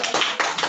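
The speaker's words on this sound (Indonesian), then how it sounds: "Tepuk tangan dong." Children in a church Sunday-school class clap briefly, a short patter of a few quick claps heard close by.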